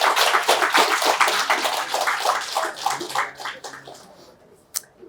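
Workshop attendees applaud in a lecture room, a lively burst of many hands clapping that thins out and fades over a few seconds, ending in near quiet with one last stray clap.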